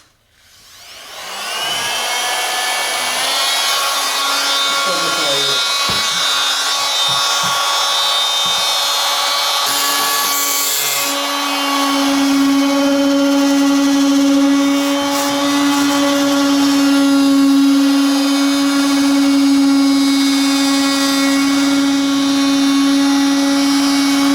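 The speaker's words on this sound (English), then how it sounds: "I'm going to try using my multi-tool, vibrating tool with one of these blades on it." An oscillating multi-tool with a cutting blade buzzes loudly and continuously while cutting cardboard for a screen-printing washout booth, its high vibrating whine shifting pitch as the blade bites and loads up.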